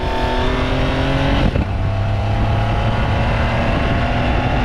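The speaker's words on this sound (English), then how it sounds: "It's a true dual exhaust for the first time in a 911 Turbo." Porsche 911 Turbo S T-Hybrid with a true dual exhaust and no collector revs hard and loud, its pitch climbing, dropping sharply at a gearshift, then climbing again in a throaty, layered wail.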